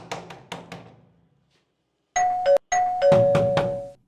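Three quick knocks on a door are followed, after a short silence, by a home doorbell ringing in sustained chiming tones. A second ring starts immediately after the first, close and loud.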